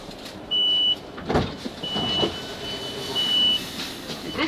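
South Western Railway Class 458 train running between London Waterloo and Weybridge near Barnes, heard from on board as a steady low rumble with brief clunks and whirs, long thin electronic tones sounding intermittently.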